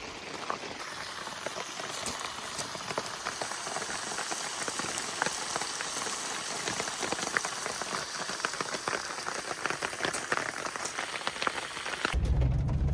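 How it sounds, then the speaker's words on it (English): Steady rain falls on a campsite at Land Between the Lakes in April, a dense, even patter of drops with no pauses, ending in a brief low rumble near the close. "we're gonna make some breakfast and hang out and see what this rain does"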